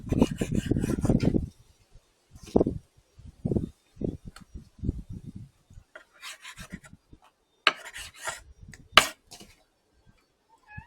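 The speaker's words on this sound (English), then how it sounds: "So this is too big, so I'm going to just cube them up. And I'm using pork shoulder." A knife slicing a pork shoulder into cubes: a dense rasping cut at first, then a series of short, separate scrapes and taps with pauses between them, close up and fairly quiet, with no speech.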